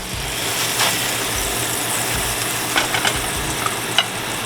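A hot ham and cheese sandwich sizzling steadily in a frying pan just after being flipped, a continuous close hiss with a few small crackles and pops and no talking.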